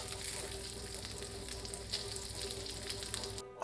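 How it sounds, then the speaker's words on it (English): Sweet potato and spinach pierogi toast in butter in a pan, crackling in a bright, continuous sizzle with occasional stirring, close and steady, with no one speaking. "I'm going to put them in a pan with some butter just to toast them and finish them"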